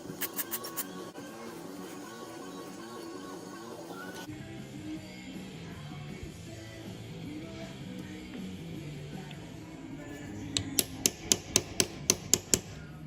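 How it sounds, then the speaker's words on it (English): A chisel taps a motorcycle shift shaft on a Dyna transmission rebuild into its bushing, with a quick run of sharp metallic taps at the start and another evenly spaced series of about eight close, ringing strikes at the end, with quieter workshop noise between them. "I had to grab the chisel, tap this shift shaft just a little bit more into the bushing"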